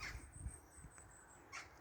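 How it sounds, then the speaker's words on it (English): A few crows cawing in the early morning at a cabin, two or three short harsh calls spaced apart, faint and somewhat distant over quiet background. "Clearly the crows have decided to get out of bed"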